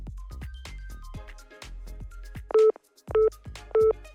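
A telephone number is dialed on a phone: three clear, loud beeping tones follow an opening stretch of soft knocks and taps, with short pauses between the tones.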